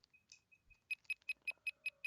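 A bug tracker in the video game 428: Shibuya Scramble beeps in a steady run of about seven evenly spaced electronic tones, preceded by softer softer chirps, clean and clear with no talk.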